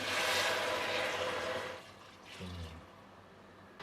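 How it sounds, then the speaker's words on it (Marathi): Hot water poured into a simmering chicken rassa curry: a short, fairly loud liquid gush and splash that fades to quieter kitchen sounds after a couple of seconds. "आता यामध्ये आपण गरम पाणी घालूया आणि गरमच घालायचं आहे"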